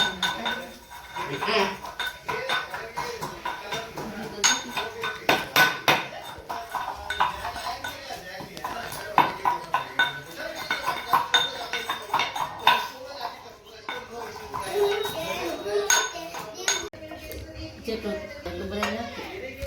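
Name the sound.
garlic being pounded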